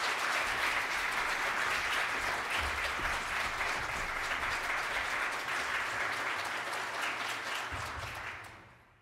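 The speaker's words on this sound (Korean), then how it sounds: "큰 박수로 맞아주시죠" Church congregation welcomes a pastor to the stage with sustained, dense applause that fills the room at steady loudness for several seconds, then tapers off near the end.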